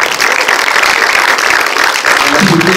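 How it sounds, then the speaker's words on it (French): Sustained applause from a cinema audience after an independent film screening at Mk2 Bibliothèque, a dense, steady wash of many hands clapping that fills the room evenly without pause. "Je pense que vous allez applaudir."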